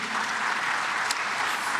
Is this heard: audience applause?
yes